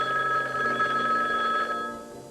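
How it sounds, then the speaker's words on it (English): Telephone ringing in a home, a steady electronic bell tone held for about two seconds and fading at the end, loud and close with no talk over it. "the phone rang,"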